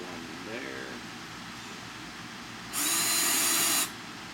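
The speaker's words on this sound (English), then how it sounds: "I'm just going to put little drill marks and real shallow ones where I'm going to do all my screwing here" A power drill bites briefly into a wooden canvas frame to make a shallow pilot mark for a screw, one loud high whine of about a second after a stretch of quiet room noise.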